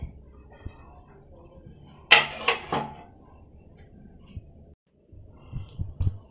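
A metal lid is set onto a pot of kalinga mural fish curry, a brief burst of clanking and scraping near the middle, surrounded by quiet kitchen handling and faint clatter.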